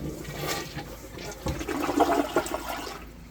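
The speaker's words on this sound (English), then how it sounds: "we're going to go ahead and flush the toilet one time to see what it looks like" Toilet flushing in an off-grid tiny house cabin after a new plumbing vent pipe install, a close rushing swirl of water that surges midway, then drains and fades out.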